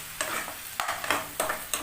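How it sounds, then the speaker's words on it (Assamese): Chopped tomatoes frying in a pan for an Assamese-style egg curry, with a soft sizzle and several sharp scraping stirs of a spatula, close and fairly quiet. "এই বিলাহীখিনি মই এনেকৈ ভাজি লৈছোঁ"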